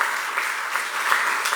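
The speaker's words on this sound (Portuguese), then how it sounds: "Aplauda o Senhor, dá uma glória a Deus bem forte" A church congregation applauds loudly and steadily in a dense, continuous wash of clapping that fills the room.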